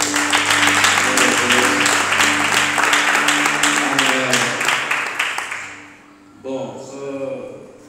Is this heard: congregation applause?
yes